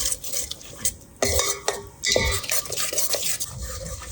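Ground masala being stirred into an onion mixture in oil for misal pav, with close spoon scrapes and clanks against the pot in irregular strokes over a faint sizzle, and no talk.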